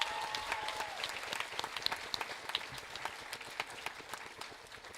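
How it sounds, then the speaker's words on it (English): Applause at a high school graduation ceremony, a large crowd clapping steadily and fairly quietly, as though from a distance, with scattered sharper claps standing out. "Let's give another round of applause to the Senior Class Council, Mr. Stack, and the rest of the administration"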